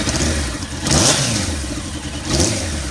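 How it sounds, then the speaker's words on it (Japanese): A Suzuki GSX1100R motorcycle engine catches and runs on the first try, with a steady mid-pitched rumble and two rising revs swelling near the start and end, loud and close, with no talk. "一発でエンジンがかかります"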